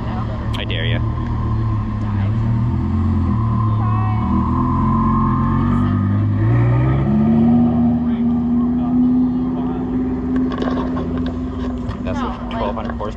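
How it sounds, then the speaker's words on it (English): A Mercedes-AMG GT Black Series rumbles at close range and pulls away, its deep engine tone climbing in pitch partway through, while people talk over it. "your favorite car is leaving now"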